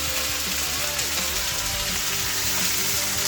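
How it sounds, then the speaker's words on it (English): Gnocchetti pasta dumplings dumped into a hot pan, frying with a loud, steady, close sizzle that hisses without a break throughout, with voices faintly audible underneath. "let's dump our pasta in"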